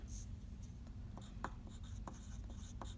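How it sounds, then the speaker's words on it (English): A pencil scratches across paper in short, faint strokes and taps, irregularly spaced like letters of a name being written, against a low steady background hum. "So I'm going to write my name first, Ms. Hirsch, on the top of my paper."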